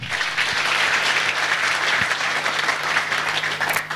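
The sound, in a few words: congregation applauding for the word of God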